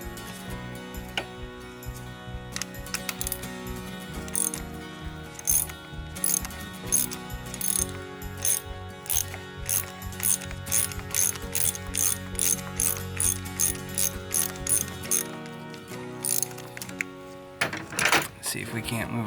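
Ratchet clicking in rapid repeated bursts while loosening an injector bolt on a 2006 Mercedes E320 CDI with the OM648 diesel engine, close and clear, with a brief pause near the end and speech-like sounds beneath.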